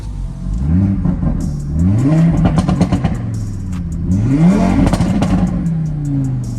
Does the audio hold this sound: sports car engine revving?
yes